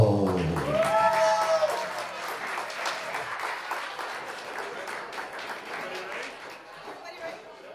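An audience at the Granite Club breaks into loud, sustained applause for the band, dense clapping that slowly tapers, with a voice heard at the start.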